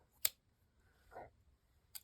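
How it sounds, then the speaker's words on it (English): Scissors snip through yarn while finishing a seed stitch knitted hat: a sharp close cut, a softer rustle of yarn, then a second quick snip, with no talking. "I'm going to grab my scissors, and I'm just going to cut"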